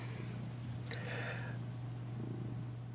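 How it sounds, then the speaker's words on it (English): A cat purring in a steady, close, low rumble throughout, with a brief brighter sound partway through and no talking. "You gonna meow at me?"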